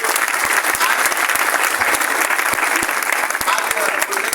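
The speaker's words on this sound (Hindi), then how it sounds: "उन सभी के लिए एक बार जोर हम ताली होना चाहिए।" An audience at a Ranchi event claps loudly and continuously, dense applause filling the whole stretch with no voice over it.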